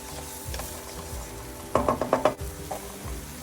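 Shrimp sausage fried rice with peas and carrots is stirred in a skillet over medium heat. A run of five quick, rhythmic scraping strokes rises over a steady low sizzle, then a few softer stirs follow.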